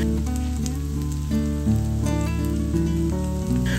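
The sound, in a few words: cauliflower stalks frying in a pan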